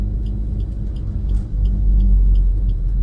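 A car rolls slowly along a road in second gear, its engine giving a steady low rumble that swells slightly midway, close and continuous with no talk.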